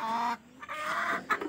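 Native chickens clucking close by, a few short, throaty clucks in quick succession.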